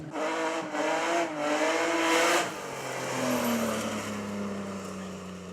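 A Peugeot 205 GTI rally car on a slalom course revs hard through several rising gear pulls, then its engine note drops and fades into a lower, steadier drone.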